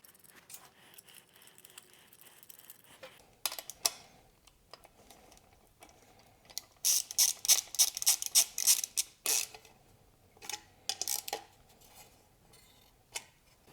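Bolts being fastened into PEM embedded nuts on a KTM 790 motorcycle heat shield, heard as light metallic ticking and clicking in quick irregular bursts, close and fairly quiet.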